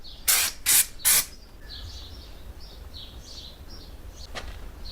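Three loud, close bursts of aerosol spray can paint hiss in quick succession on Ford Escort 1300GT bodywork, followed by a quieter room with faint chirping and a brief click near the end.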